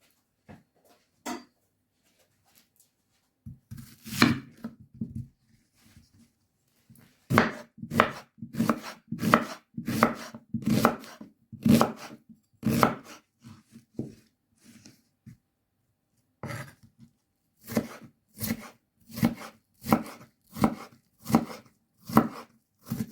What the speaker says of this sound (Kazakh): Енді біз 2 картошка мен пиязды турап аламыз.